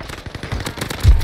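Gunfire in a video game, a quick run of sharp cracks and pops with a heavier boom near the end, fairly loud against a quiet background.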